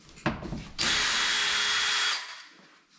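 Power drill driving short screws into an interior door in a 1986 mobile home, a brief rev then a steady whirring run of about a second and a half, close and loud.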